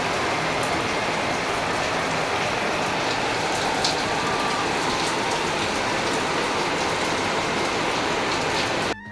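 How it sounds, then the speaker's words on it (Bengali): Heavy rain pours down hard in a Bengali village home, a loud, dense and continuous hiss of drops drumming on surfaces close by, steady throughout with no talk. "আর বৃষ্টিটা কিন্তু বেশ ভালো জোরে হচ্ছে।"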